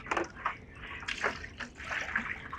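Water poured out of a Top Fin Pro120 aquarium canister filter during cleaning, irregular sloshing and splashing in several uneven bursts at close range.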